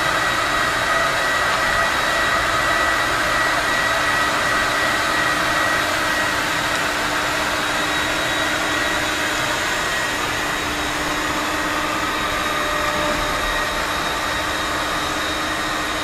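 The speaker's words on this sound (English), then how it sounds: "The jetpulse system was developed so you do not have to open up the vacuum to clean the pre-filters." A steady, loud mechanical whine with a broad airy roar runs without a break, a vacuum cleaner motor running on its own with its self-cleaning pre-filter system.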